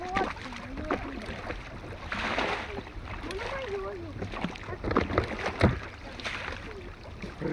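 Oars paddle a rowboat on open water in Abkhazia. Soft, irregular splashes and water swishes sound close by, and people talk over them throughout.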